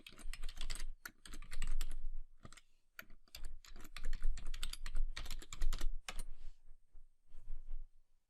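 Login credentials are typed on a computer keyboard, a close, rapid run of crisp key clicks in quick bursts with brief pauses between, continuing for several seconds and trailing off near the end, without speech.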